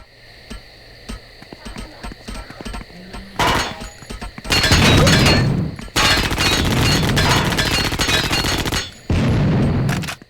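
Guns fire in the video game Hellforces: a string of short, sharp shots in quick succession, followed by several loud sustained blasts of impact and crashing debris, separated by brief quiet gaps.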